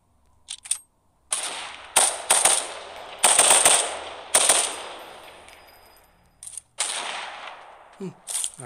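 Sniper gunfire in the battle-royale game FF7 The First Soldier, a series of sharp, loud shots and bursts with brief silent gaps between them, no talk over it.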